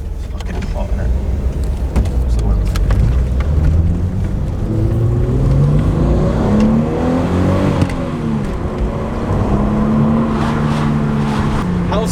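A 25-year-old VR6 engine revs on a dyno, its pitch sweeping up and down repeatedly in a loud, continuous run with people talking over it.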